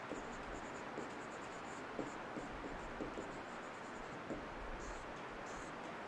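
Marker or chalk writing on a classroom board during a civil engineering lecture, faint scratchy strokes coming in short bursts under a steady background hiss, with no talking.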